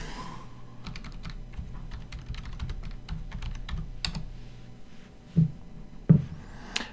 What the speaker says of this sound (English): You're gonna type Nessus Home.